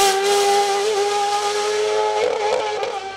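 A Speedcar GTR race car competing in the CM class at the Bagnols-Sabran 2020 hill race, its engine holding a loud, steady, close-up drone with a strong tonal whine throughout, wavering slightly near the end.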